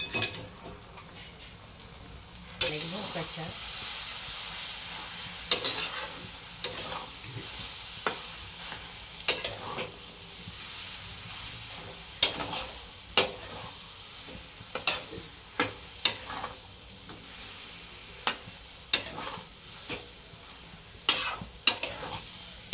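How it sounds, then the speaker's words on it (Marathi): Spice mix of Kashmiri red chili and coriander powder roasting in a pan for paneer bhurji, a soft continuous sizzle punctuated by regular sharp spatula scrapes and taps, close and without talk. "आणि आता हे सगळे एकत्र आपण छानपैकी भाजून घेणार।"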